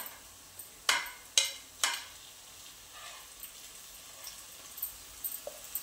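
Ground masala paste being sautéed with browned onion in a pan for matar kurma, a few sharp spoon scrapes and stirs over a faint steady sizzle, no talking.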